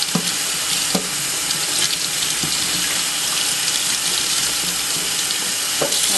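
Tap water runs steadily into a sink while seafood is rinsed under it, a constant close hiss broken by a few small knocks and splashes, with no voices.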